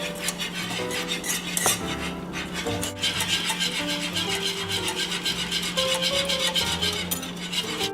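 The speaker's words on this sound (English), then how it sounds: "I'm gonna whisk in my cream very carefully because it's very hot" A whisk scrapes and clinks steadily against a pan as cream is stirred into hot caramel, making a continuous busy metallic rubbing and rattle at close range with no talking.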